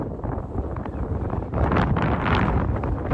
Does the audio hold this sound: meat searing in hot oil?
no